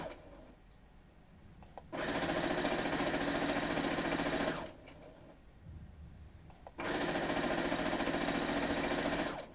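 A sewing machine runs close and steady while stitching quilt binding, two long bursts of dense whirring separated by a short quiet pause, with no talking.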